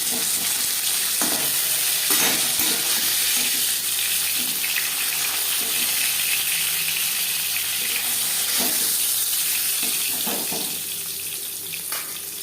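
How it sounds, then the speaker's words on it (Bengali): Onions fry in oil left over from frying fish: a continuous close sizzle with a hissing, watery texture, punctuated by occasional scraping stirs, steady and fairly loud before easing slightly near the end, with no talking. "মাছ ভেজে নেওয়া তেলে পেঁয়াজ ভেজে নেবো"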